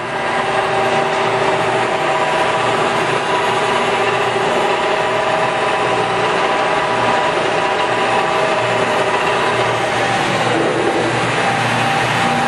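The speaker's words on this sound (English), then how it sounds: "That's a smooth running spindle you got there, sir." A Cincinnati No. 3HD horizontal milling machine with a 15 horsepower main drive runs its spindle at 900 RPM, giving a steady, loud, even mechanical whine and hum that holds unchanged throughout with no talk.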